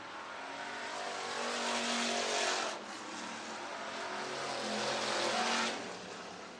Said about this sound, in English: it is Hanselman posting the heat race win